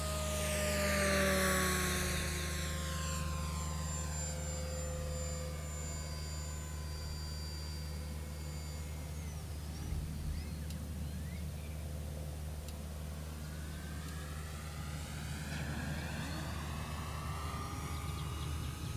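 A Tower Hobbies Cessna 400 1.1m electric RC model airplane's motor whines at full throttle, its pitch sweeping down as it passes and rising again as it returns, over steady hum.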